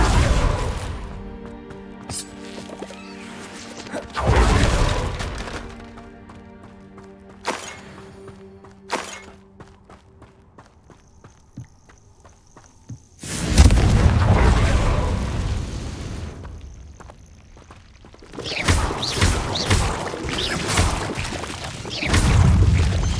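Confringo blasting spells in Hogwarts Legacy set off repeated loud booming explosions with crackling debris, separated by quieter rumbling stretches and ringing tones between blasts.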